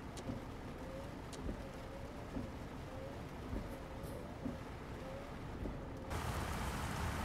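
Steady rain patters in the truck driving game Euro Truck Simulator 2 while the player waits at a ferry crossing in Hungary, a constant soft hiss under a low engine rumble, with a faint repeating tone and a brief shift near the end.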